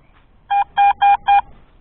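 A handheld metal detector gives four short, loud, steady tones in quick succession while being swept over a buried brass belt buckle, with nothing else heard.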